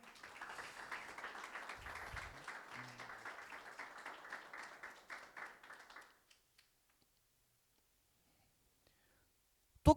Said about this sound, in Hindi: यीशु मसीह के लिए तालियां बजाएं